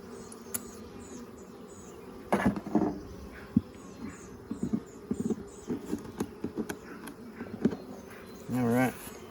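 A large caught honeybee swarm buzzes in a hive box, a faint, continuous hum with scattered clicks and knocks from handling the hive nearby, and a brief louder buzz near the end.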